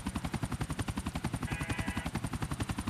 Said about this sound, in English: Watch a helicopter land dramatically.